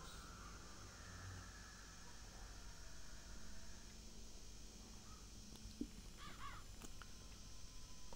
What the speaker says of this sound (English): What was that? It's a bird.